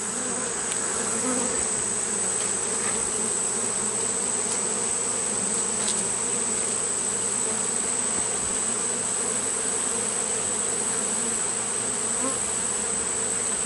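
Honey bees buzz in a dense, continuous drone during a hive inspection, close and loud, with a steady high whine and no speech.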